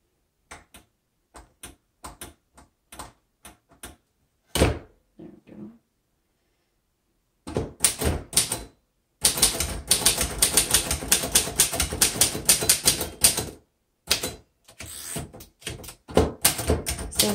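Typing on a 1935 Royal Model O manual typewriter: scattered single keystrokes at first, a pause, then dense rapid bursts of clacking keys and thunks, close and clear with no talk.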